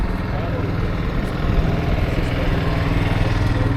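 A propane-fuelled John Deere 620 Grove and Orchard tractor runs at a steady, low throbbing idle, its engine rumble constant and close while someone talks over it at an antique farm show.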